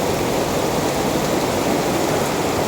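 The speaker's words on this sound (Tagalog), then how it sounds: "Mag-cross ako dito, pero ang lakas ng ulan." Heavy tropical downpour pounds steadily outdoors, a dense, loud and unbroken roar of rain with no pauses and nothing else standing out.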